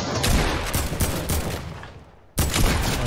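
Gunfire in Fortnite comes as loud, rapid bursts of repeated shots, briefly dropping off before another heavy volley resumes close by.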